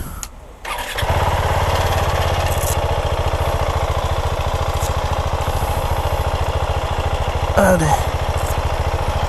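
A Husqvarna Vitpilen 701 motorcycle's 700cc single-cylinder engine fires up and settles into a loud, steady running drone close to the listener, with a brief rev swell near the end and a short spoken word at the start.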